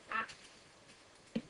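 A single short duck quack used as a sound effect in a modded game, fairly soft, followed by a faint brief blip about a second later.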